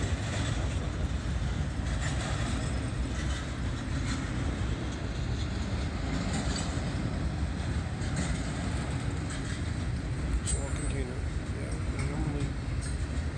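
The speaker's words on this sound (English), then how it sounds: "There's the end of the train right there." A Norfolk Southern freight train led by a GE locomotive rolls through a grade crossing in north Greenville, a steady low rumble of railcars with rhythmic clickety-clack, continuous and nearby, with occasional talk over it.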